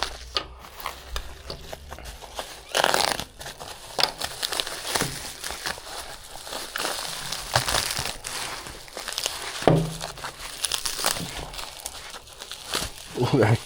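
Packaging for a kayak Livescope pole being unwrapped and handled, with close crinkling and crumpling of plastic and paper in irregular bursts, occasional tearing, and some knocks, under intermittent talk.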